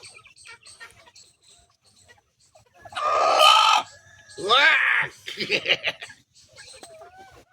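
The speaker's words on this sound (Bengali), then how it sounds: "এই যে মুরগি না তো এটা মোরগ" A rooster on a poultry farm gives loud, harsh squawks and clucks up close, two strong bursts with softer calls after, amid faint background chatter.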